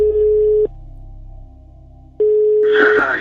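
Telephone tones in a documentary recording: a steady electronic beep plays, stops for about a second and a half of quieter hum, then sounds again before a burst of noisy chatter at the end.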